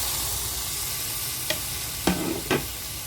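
Onions and tomatoes sautéing in a pan for a hotel-style vadacurry, with a steady low sizzle broken by three quick, distinct scrapes of a spoon stirring, close and alone without talk.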